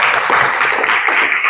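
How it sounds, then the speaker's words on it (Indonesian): Students in a classroom applaud together, a brief continuous burst of dense clapping, loud and close, with no talk over it. "Tepuk tangan untuk kita semua."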